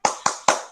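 Three sharp, evenly spaced claps from a classroom group doing a rhythmic spirit clap, each a crisp unified hit with a short decaying tail, close and clear with no talking.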